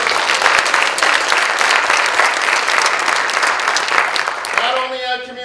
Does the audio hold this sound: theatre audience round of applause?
yes